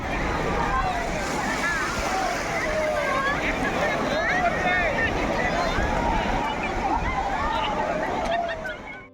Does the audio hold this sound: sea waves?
yes